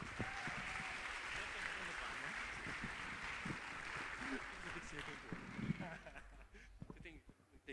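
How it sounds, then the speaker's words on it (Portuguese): An audience at a technology and innovation talk applauds a presenter, steady faint clapping that runs several seconds before tapering off, with some voices murmuring beneath it. "Uma salva de palmas para o Luiz Fernando, por favor."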